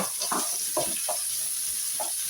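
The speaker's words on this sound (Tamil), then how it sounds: "கொஞ்சம் வதங்க விடுங்க நல்லா வதங்கிடும் வெங்காயம்" Onions and garlic sautéing in a pan for a beef curry: a constant bright sizzle with intermittent scraping and stirring knocks close by, no voices.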